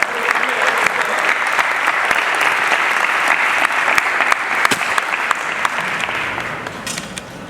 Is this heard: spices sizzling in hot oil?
no